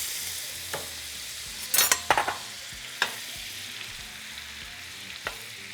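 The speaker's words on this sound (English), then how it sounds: "now we're going to be melting 2 pounds of butter" Two pounds of butter melt and sizzle in a skillet over medium heat, a steady soft frying hiss broken by a few sharp scraping clicks of stirring, with no voices.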